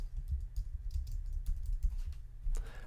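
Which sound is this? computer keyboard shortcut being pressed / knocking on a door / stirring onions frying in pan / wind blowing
computer keyboard shortcut being pressed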